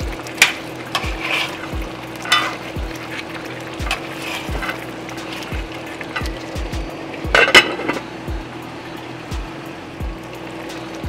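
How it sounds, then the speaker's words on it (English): A utensil stirs garlic in a cooking pan for a curry chicken dish, with a steady low sizzle under regular scraping and clinking strokes that repeat about every second, fairly close and loud. "some garlic in there. Stir it up."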